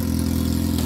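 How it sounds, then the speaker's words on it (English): Loud, steady rumble of a motorcycle engine idling close by, a low throbbing drone with no talking. "excuse the motorcycle noise in the background"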